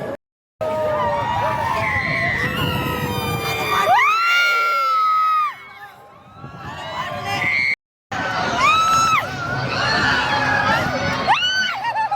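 People scream and shriek repeatedly on a break dance ride at a village yatra fair in Beed, with loud rising and falling yells and crowd noise, briefly dropping out before the screaming resumes.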